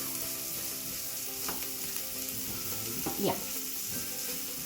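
Spices tempering in hot oil in a pan for lime rice, a continuous close sizzle with a few faint stirring scrapes, and a brief word from a voice in the middle.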